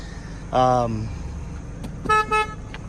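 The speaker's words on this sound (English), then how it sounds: "There's a little horn." A 2005 Chrysler PT Cruiser horn honks once, a sustained nasal toot, then gives two quicker beeps a moment later, close and loud over a faint background hum.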